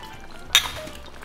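Glasses clink once in a quick bright toast at a table over a Korean kimchi stew meal, a single sharp chime against quiet background.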